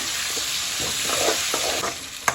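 Chicken masala being stirred in a frying pan with salt and turmeric, a steady close sizzle broken by scraping spoon strokes and a sharp clack near the end; no talking.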